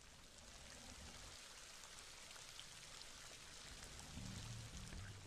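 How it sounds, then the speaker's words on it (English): Rain in the Ice Age 2 video game's Mud Bog level, a continuous dense hiss of falling water, steady and faint throughout with a slight low hum toward the end. "Looks like it appears to be raining."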